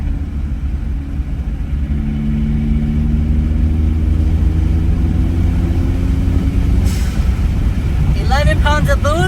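Toyota Celica GT-Four turbo engine pulling gently in fifth gear under light throttle, a steady low rumble from inside the car with a faint rising whine, and a person talking near the end.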